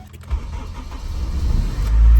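An Acura RSX with a fuel leak and fuel pump problem cranks and starts, its engine catching after a few initial clicks, then settling into a close, steady, rising rumble.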